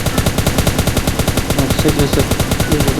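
Rapid automatic gunfire from the PUBG video game, a dense, loud, evenly spaced burst of shots that continues without a break.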